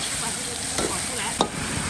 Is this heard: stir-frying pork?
yes